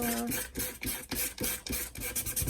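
Sandpaper rasps over a chalk-painted mason jar in a run of short, close strokes roughly every half second, a dry scratchy scrubbing with no talking.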